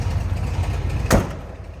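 A 1983 Ford F150 regular cab short box 4x4 with a 302 V8 idles in a low, steady rumble, close and even, with a brief sharp clunk partway through and no talking.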